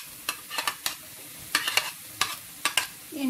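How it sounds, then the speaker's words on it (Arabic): Onions frying in a pan for chicken livers, a steady low sizzle broken by sharp clinks and scrapes of a utensil stirring at an uneven rhythm, close and moderately loud. "وهنا بدأ البصل ياخذ لون عندنا"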